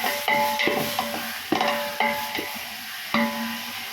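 Onion and green chillies sautéing in a pan for biryani: ringing metallic spatula strikes and scrapes land every half second to second over a faint, low sizzle.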